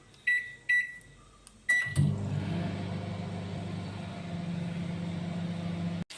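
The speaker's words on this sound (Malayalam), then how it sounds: "ഉള്ളി ഞാൻ ഓവനിൽ വെച്ച് വാട്ടിയെടുക്കാൻ പോവാം" A microwave oven softening onions: a few short beeps as buttons are pressed, then a steady low hum that runs for several seconds before stopping abruptly.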